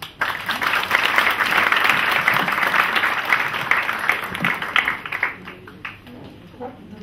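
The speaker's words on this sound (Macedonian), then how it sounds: "Ве молам за аплауз" Loud, sustained applause from an audience at an evening philanthropy gathering in Struga fills the room, holding steady for about five seconds before tapering into scattered claps.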